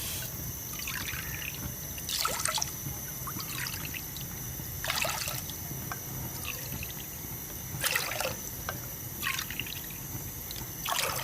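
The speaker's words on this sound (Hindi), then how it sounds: "ये 1 कप चीनी ये डालते हैं और हम इसी कप से 5 कप पानी डालेंगे।" Water trickles and pours steadily into a pan in a quiet room, with a few brighter splashing bursts as more is poured in at intervals, cup by cup, over sugar for rasgulla syrup.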